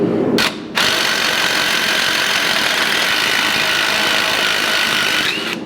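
Air impact wrench on a Jeep WJ Grand Cherokee shock absorber nut, a loud continuous whirring buzz running for several seconds after a short burst, close to the microphone with no talking.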